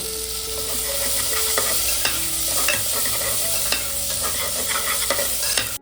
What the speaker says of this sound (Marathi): कांदा मिरची तीन मिरची चिरून टाकलेली आहे चांगल्या प्रकारे शिजवून घ्यायचं आहे